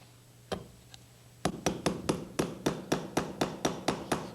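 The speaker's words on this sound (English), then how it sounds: "I'm going to put this little tack right in here." A small hammer drives an upholstery tack into a wooden furniture frame: two light taps, then about a dozen sharp, evenly spaced blows in quick succession, close and crisp with no talk.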